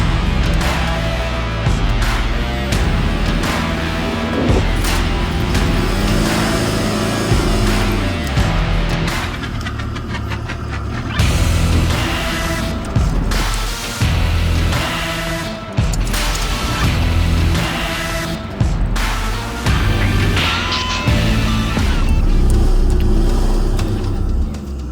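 A car driving hard through deep beach sand, its engine loud and roaring steadily throughout with repeated surges of revving and occasional thumps and bumps, close up.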